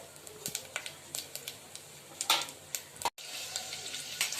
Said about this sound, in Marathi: चला आपल्या वरणाची फोडणी छान झाली आहे